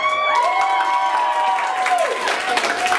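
Loud applause and cheering from an improv comedy show audience fill the moment, steady throughout, with some shouting voices and whistling tones mixed in.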